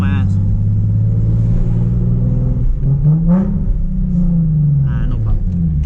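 Nissan 370Z with a loud aftermarket exhaust, heard from the driver's seat: a deep, steady engine drone that swells and revs up and down over about six seconds, up close and loud, with a few faint human sounds on top.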